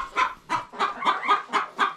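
A flock of chickens with a rooster in a coop clucks in quick, rhythmic bursts, about seven calls in two seconds, close and moderately loud with no talking.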